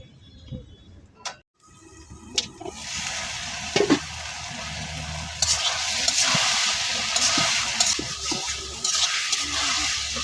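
Vegetables and fish being sautéed in a pan, starting with a few scrapes and clatters and then settling into a steady loud sizzle with occasional stirring.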